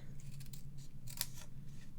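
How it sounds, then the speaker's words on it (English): Scissors snip through paper card at close range, a quick run of faint crisp cuts and clicks over a low steady hum, with no voice. "I'm going to take our scissors now and we're literally going to"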